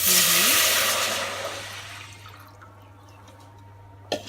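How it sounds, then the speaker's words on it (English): Water pours loudly into a pot to make syrup for Greek baklava, a broad rushing splash that fades over a couple of seconds and ends in a few faint drips and one sharp knock. "So we put 2 big cups of water."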